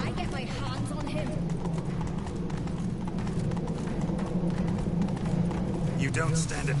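Horse hooves clip-clop in a steady, rapid galloping rhythm throughout The Witcher 3 video game, close and continuous, mixed with game music and a dense background bed, while voices speak over it.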